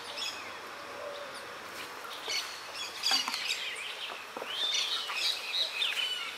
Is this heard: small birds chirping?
yes